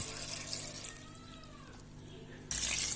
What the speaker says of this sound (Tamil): இந்த குக்கரில் இருக்கிற பழத்தை முழுங்குற அளவுக்கு நம்ம தண்ணி ஊற்றிக்கணும்